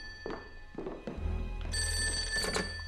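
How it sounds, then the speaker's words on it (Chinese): A telephone ringing indoors, starting after a few soft thumps and then sounding as a continuous, bright electronic ring for the rest of the moment. "局长，我接个电话。"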